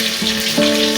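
Chopped garlic sizzling in a hot pan, a steady close frying hiss with a slight surge partway through as it is stirred, no voices.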